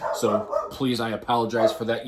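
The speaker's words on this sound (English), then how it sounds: "If you hear my dog barking" A dog barks in excited, repeated bursts at cattle roaming in the yard, loud and close, mixed in with someone talking over it.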